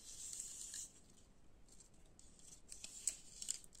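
Scissors snip a metre of fluorocarbon fishing line, a brief bright hiss of cutting at the start and a couple of small crisp clicks later, close and faint against near silence.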